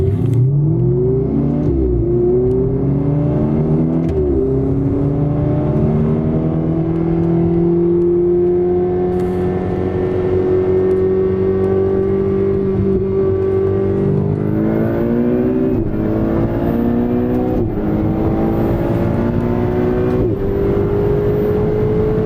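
A Ferrari 488 engine pulls hard from inside the car during a street race, a loud droning roar whose pitch climbs steadily through long gears with brief dips at upshifts.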